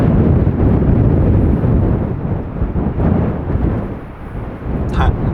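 Blizzard winds batter a camper van parked in a winter snowstorm, making a loud continuous roaring rumble that swells and dips, with a brief higher rattle near the end.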